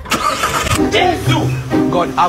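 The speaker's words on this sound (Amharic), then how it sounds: "ሞተር አስነሽለት" A car engine is cranked and catches, running with a mid-pitched rumble, heard close under steady conversation between people.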